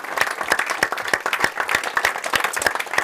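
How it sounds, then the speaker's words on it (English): A crowd applauds steadily for the Bemm River CFA fire brigade volunteers at a fishing tournament weigh-in in Bemm River, Victoria. It is a dense, continuous patter of many hands clapping nearby. "So another round of applause for the Bemm River CFA."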